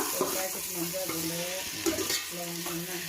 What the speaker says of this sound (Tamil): அதுக்காக தான் இப்போ உப்பு சேர்த்துட்டு இதை வதக்கி விட்டுறலாம்.